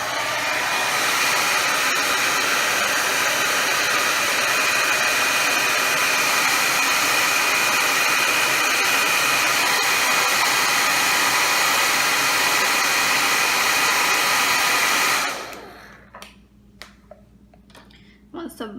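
A hot air heater warms the bridge of an eyeglass frame with a loud, steady blowing whoosh and a faint whine for about fifteen seconds, then cuts off into near quiet with a few light clicks.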